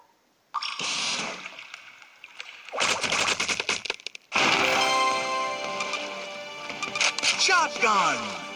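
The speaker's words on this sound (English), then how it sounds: "Shotgun!" Shotgun blasts in the mobile shooter Ramboat, several loud bursts of firing separated by short silences, mixed with game effects and clanging, with a voice talking over it.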